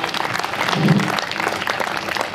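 Guests at a private gathering at a home give the ghazal singer a loud round of applause, a thick, continuous burst of many hands clapping close by.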